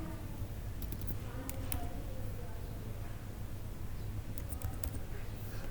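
Keyboard typing while filling out an online internship application form, a few quiet bursts of key clicks over a low steady hum, with a voice speaking faintly.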